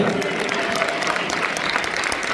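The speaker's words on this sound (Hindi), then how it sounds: "शादी के लिए बहुत सी तालियां होनी चाहिए" An audience at an Urdu poetry recital in Riyadh, Saudi Arabia claps together in a short, dense burst of applause.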